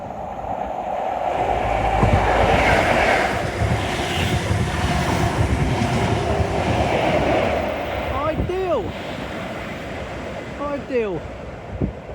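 An HST 125 train rushes past on the Teignmouth seawall, a loud sustained roar and rumble close by with sea surf mixed in. Brief metallic squeals come near the end as the sound eases.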